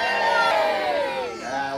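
A short, lively burst of children cheering and shouting together in response to a Polar Express story about heading to the North Pole. The voices are close and bright, and the cheer rises then tapers off.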